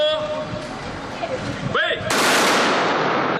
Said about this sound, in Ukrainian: То були три сальви на честь Дня Незалежності